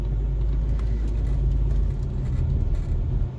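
A Rover 25 GTI, just back together after a head gasket replacement, idles and pulls away with a steady low engine rumble from inside the cabin, a little rougher and louder toward the end.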